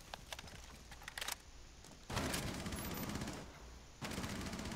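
Gunfire in Rainbow Six Siege on the House map, bursts of rapid automatic shots in quick clusters separated by brief gaps, sharp and fairly close but low in level.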